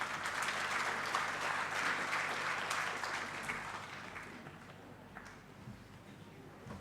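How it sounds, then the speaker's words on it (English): Audience applause at a book launch on Bengal textiles, a faint, distant steady clapping that slowly tapers off toward the end. "That sound of applause,"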